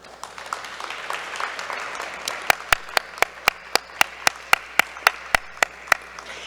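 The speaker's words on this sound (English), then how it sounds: "give a big round of applause to the people that have supported you through this journey" Audience applause at a graduation ceremony for pharmacy technology and medical assistant students, a dense crowd clapping for several seconds while a few loud, sharp individual claps ring out in a steady rhythm near the listener.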